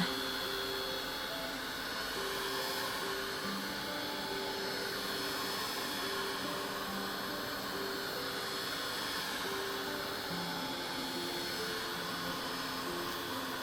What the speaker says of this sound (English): even though we don't get a lot of blowing with this heat tool